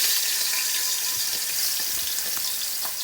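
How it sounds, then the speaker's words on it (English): Chicken pieces laid skin side down in hot canola oil in a pot, giving a steady, close, continuous crackling sizzle with scattered pops, no talking. "Listen for that sizzle."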